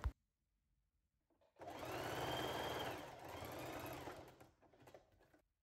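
A domestic sewing machine runs a continuous seam along a skirt hem, a loud close whirring burst of about three seconds after near silence, slowing briefly midway before stopping.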